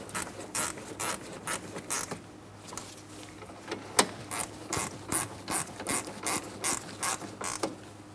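Rear brake bolts on a 2003-2007 Cadillac CTS being snugged up with a ratchet, giving a steady run of close, clicking ratchet bursts with brief pauses and one sharper knock partway through, no voice.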